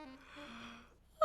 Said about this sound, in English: he yawned a great big yawn